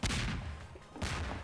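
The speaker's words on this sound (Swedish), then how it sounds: "Hemskt vad det smäller i kanonerna, Timmy." Cannons fire in a Prop Hunt match, two sharp loud booms about a second apart, each with a short rumbling decay.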